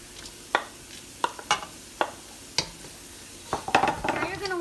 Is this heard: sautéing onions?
yes